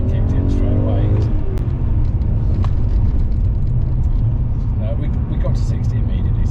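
BMW E39 M5 V8 under hard acceleration from around 3,000 rpm, a loud continuous low engine roar with rising harmonic sweeps early on, a steady cabin drone throughout with traction control intervening.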